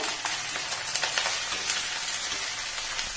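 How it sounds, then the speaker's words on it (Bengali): Onion stalks (spring onion) frying in a pan, a steady dense sizzle and crackle close by, continuous and moderately quiet with no talking. "এবার পেঁয়াজ কলিগুলোকেও একটু ভাজবো"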